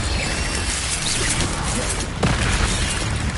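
Incendio fire spell blasts in Hogwarts Legacy, a rushing fiery roar with a sharp burst near the end, loud and close, no voice over it.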